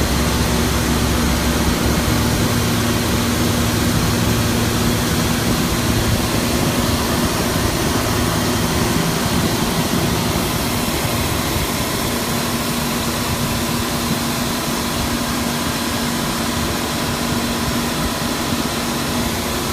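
A lathe cutting a wooden baseball bat spinning at 3,000 RPM in a bat factory, a loud continuous roar and whine with a steady tone and no pauses, no voices.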